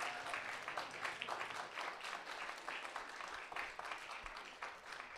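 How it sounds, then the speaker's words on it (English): Audience applause at the Story Arts Centre 25th anniversary celebration, a steady wash of many hands clapping from a gathered crowd, sustained and fairly even throughout with no voices on top. "A round of applause for everybody here and all our performers and presentation"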